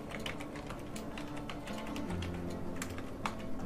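Steady typing on a computer keyboard while personal details are entered into an online form: quick, uneven clicks and taps at close range over a low background hum, with no talking.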